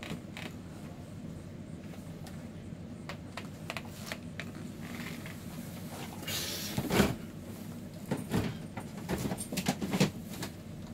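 Stationery drawer creaks and rattles open or shut with scattered woody clicks and scrapes, close and quiet, more active toward the end.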